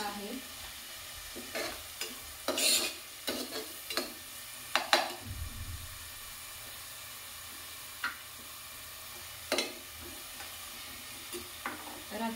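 Cumin, peanuts, onion, green chili and curry leaves frying in a pressure cooker make a low, steady sizzle, broken by scattered stirring scrapes and spoon knocks against the metal, close and alone.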